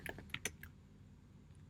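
Short bursts of typing on a computer keyboard, a handful of crisp close key clicks in quick succession, faint over a quiet room with no talking.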